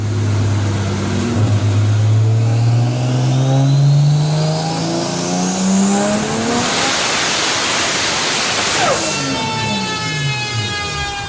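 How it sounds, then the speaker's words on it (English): Turbocharged 1000hp Toyota Supra engine on a dyno, loud and close, revving in one long pull from low rumble up to a high scream, with turbo whine, then the revs dropping away at the end. "here's a video of that dyno run"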